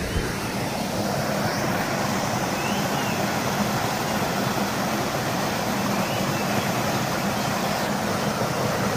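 A waterfall on a jungle trek in Goa rushes in a steady, dense roar of falling water that holds constant and loud throughout, with no voices.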